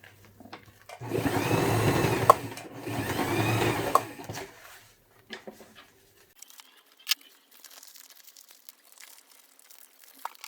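A sewing machine stitching a fabric double zipper pouch runs in two short bursts of rapid whirring, followed by quiet handling clicks and rustles of the fabric.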